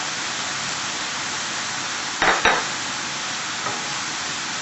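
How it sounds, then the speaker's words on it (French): Flour added to melted butter for a béchamel, stirred in a pan over steady low sizzling, with a couple of brief scraping strokes near the middle and no talking. "Une fois que le beurre est fondu, on ajoute la farine."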